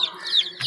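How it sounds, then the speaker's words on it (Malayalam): Young chickens give short, high chirping clucks, three or four bright peeps close by in quick succession with soft rustling between them. "ഇത് ഞങ്ങളെ കുഞ്ഞിക്കോഴികൾ."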